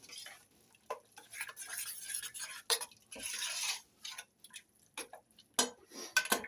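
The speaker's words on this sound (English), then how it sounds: "then turn the heat down to simmer, and then we'll just give it a stir" A spoon stirring a simmering chilli of onions, peppers, chillies and kidney beans in a pot, quiet irregular scrapes and clinks in short bursts separated by near silence, close by.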